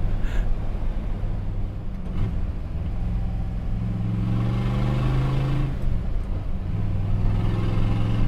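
A Shelby street racer's engine rumbles through side exhaust outlets set low at the sill panel, a steady loud idle-to-rev drone with rising and falling pitch, no talk over it.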